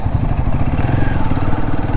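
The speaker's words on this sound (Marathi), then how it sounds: "आता माझी गाडी हिमालयन आहे म्हणून चालून जात आहे" A Himalayan motorcycle rumbles loudly and steadily while riding a rain-damaged, potholed highway, the engine drone dominating with some clatter.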